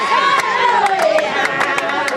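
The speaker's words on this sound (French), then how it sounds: "c'est une foule en liesse qui accueille la délégation ministérielle" A jubilant crowd in Kouram, Nara-Est, welcoming a ministerial delegation, a loud continuous roar of cheering, shouting and ululating voices with scattered sharp claps throughout, close and full.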